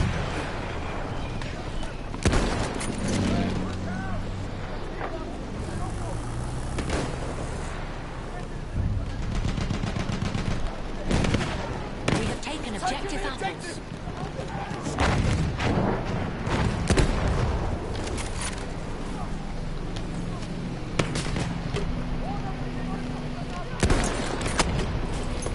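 Rapid gunfire in a PS4 video game, repeated bursts of automatic and single shots in loud clusters across the whole stretch, with someone talking excitedly over the shooting.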